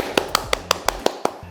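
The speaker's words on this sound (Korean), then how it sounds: "박수!" Hand clapping in a neurosurgery clinic, eight evenly spaced sharp claps in a brisk steady rhythm, close and crisp, ending in a short pause.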